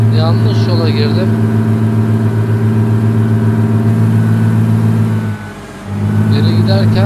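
Bus engine in Euro Truck Simulator 2 droning steadily while reversing, a loud, continuous low hum with a faint beeping tone, dipping briefly near the end before resuming.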